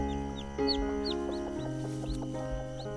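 Chicks fallen beneath a hen's nest peep in repeated short, high rising calls, fairly close, over a steady low hum and background farm sounds with clucking fowl nearby.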